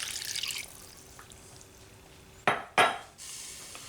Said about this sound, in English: now we're going to pour in the rest of the beef broth